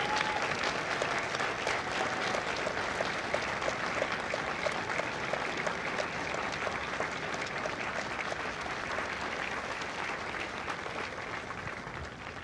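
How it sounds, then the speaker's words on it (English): Steady, sustained audience applause at a Marine Corps recruit graduation ceremony at MCRD San Diego, a broad wash of many hands clapping evenly for the full length with no talk over it. "Ladies and gentlemen, a round of applause for their dedicated service to Corps and country."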